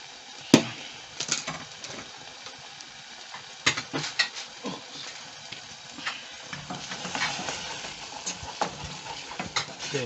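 Spoon stirring pilipili chili sauce with added sugar in a pan, a steady scraping and soft clatter with a few sharper knocks, close and fairly quiet.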